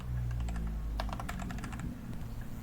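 Quick clicking keystrokes on a computer keyboard while a directory-change command is entered, a short burst of close, crisp taps over a low background hum.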